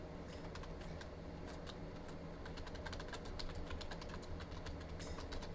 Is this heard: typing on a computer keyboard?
yes